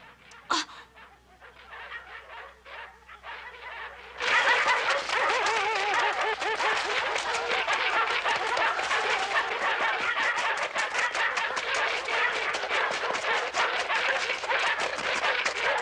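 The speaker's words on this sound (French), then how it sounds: "Les chiens de montagne ne sont pas loin." A pack of mountain dogs barks loudly and continuously, many overlapping yaps and woofs forming a dense, excited chorus after a quieter start.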